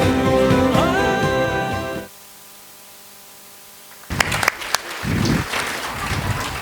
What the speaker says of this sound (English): Give them a big round of applause, audience.